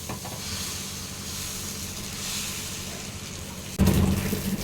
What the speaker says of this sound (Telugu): ఇప్పుడు కొద్దిగా ఆయిల్ వేసుకొని ఇలా ఒక సైడ్ కాల్చుకుంటే సరిపోద్ది